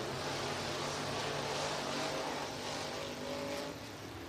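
Race cars roaring down the back straightaway during a night race, a dense, steady engine drone from a distance that fades slightly near the end.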